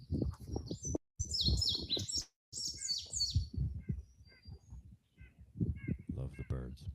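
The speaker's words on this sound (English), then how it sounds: "Love the birds." Birds chirp outdoors in short, bright bursts of high calls, some near, scattered through the clip while a person talks almost continuously over them.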